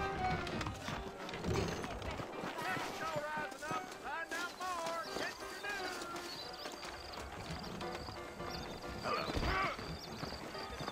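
Saddled horses clip-clop at a steady trot in the Red Dead Redemption video game, hooves clattering close and continuous with an occasional whinny, while characters talk over the hoofbeats and music.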